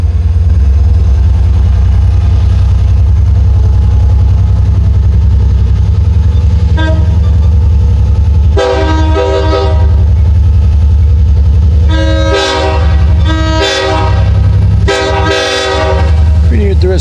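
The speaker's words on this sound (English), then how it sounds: "Interesting horn sequence there by the engineer of 698 there." The LIRR train 698 locomotive sounds a loud, close horn sequence of several blasts of varying length, some short toots and some longer, over the steady heavy rumble of the passing train.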